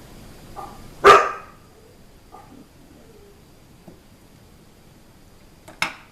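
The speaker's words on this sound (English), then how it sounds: "Sorry about my dogs." A single loud, close bark followed by a few faint, distant yips and woofs, then another sharp bark near the end.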